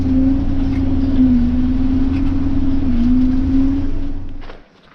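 A farm tractor engine idling in a field with the clutch held in, a loud, steady, close drone that holds even and then cuts off abruptly near the end.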